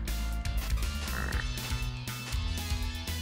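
Frogs croak repeatedly in Castlevania: Rondo of Blood, a steady run of game croaks laid over busy looping music and effects, with no talking.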